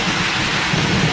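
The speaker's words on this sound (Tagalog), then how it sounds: "Malakas ang kulog." Heavy rain drums down around a camped car in the mountains of Benguet, while a deep thunder rumble rolls through it, loud and close.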